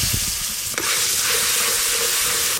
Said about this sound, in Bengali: সর্ষে পোস্ত খুব বেশিক্ষণ গরম তেলে নাড়তে হয় না